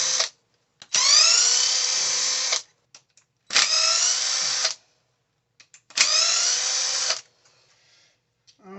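A power tool whines in three separate bursts while removing bolts from a Tekno MT410 RC truck, each a rising, sustained high drill spin lasting about a second and a half, close up, with quiet pauses between.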